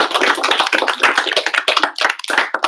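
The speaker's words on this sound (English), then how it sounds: "So let's give them a round of applause." Loud, close applause from the crowd at a Write the Docs Ottawa meetup honoring the volunteers, a brisk flurry of crisp, overlapping hand claps keeping up its pace without any voices.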